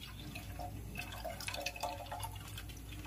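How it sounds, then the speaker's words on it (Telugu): Milk poured into a pan while making kheer with thick packet milk, giving a steady close pouring and dripping splash that runs throughout without talk. "దాంట్లో మిల్క్ యాడ్ చేద్దాం."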